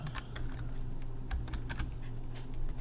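Light keystrokes tap on a computer keyboard in a short, uneven run of soft clicks. A steady low background hum runs under them, and no one speaks.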